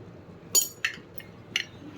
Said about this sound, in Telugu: ఇప్పుడు మనం ఇందులో 1 టేబుల్ స్పూన్ కారం వేసుకుందాం